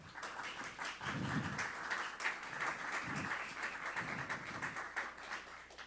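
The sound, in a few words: audience applause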